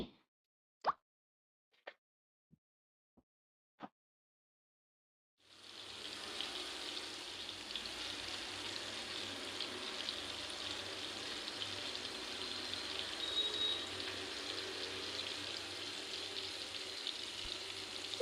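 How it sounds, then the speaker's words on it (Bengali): Chicken wings fry in a pan with a steady, close, hissing sizzle. A few sharp knocks come first, then the sizzle starts abruptly and carries on alone at an even level. "এখন আমি ভেজে নেব"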